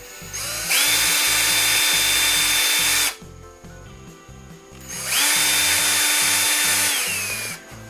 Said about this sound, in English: So let me just drill me some holes in here.